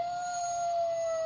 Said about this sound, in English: Arctic wolf.